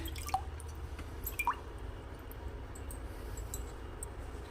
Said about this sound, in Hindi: कुबेर जी महाराज जी को जल के छींटे लगाइए ताकि ये शुद्ध हो जाएं